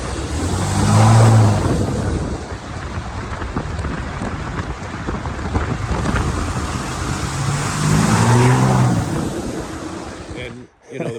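A heavy 600hp 6.7L Cummins turbo diesel truck set up as a camper tow rig drives on a dirt road. A steady low rumble comes through with constant rattling and road noise, rising in two heavier surges.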